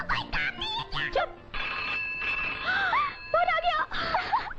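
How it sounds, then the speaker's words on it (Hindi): A telephone rings in a scene from an old Bollywood action film starring a famous actor, its steady electronic tone sounding through the scene while voices speak and moan over it. "फोन आ गया।"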